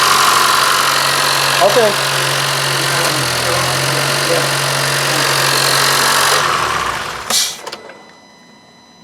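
2015 Honda Fit engine with a VTC fault starting up, a brief rattle at cranking settling into a steady idle hum, heard close, with a short spoken word before the engine is shut off near the end.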